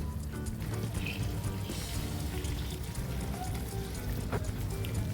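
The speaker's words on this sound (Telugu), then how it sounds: "ఇలా గీలో బాగా ఫ్రై చేసుకోవాలి." Chicken and masala frying in ghee in a pan, a steady close crackle and sizzle that runs without pause, with occasional faint clinks and no talk over it.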